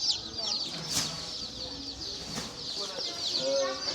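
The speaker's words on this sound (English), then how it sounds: "chickens." Chickens cluck and squawk close by in a farm or feed store setting, with several short bursts over steady background chatter from people talking nearby.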